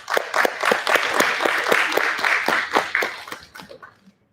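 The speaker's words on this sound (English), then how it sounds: "Let's give all the contestants one final round of applause" Audience applause at the Miss Nation Ford 2021 pageant before the crowning, a dense burst of many hands clapping that holds steady, then thins and stops after about four seconds.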